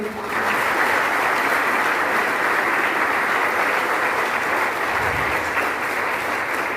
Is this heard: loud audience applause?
yes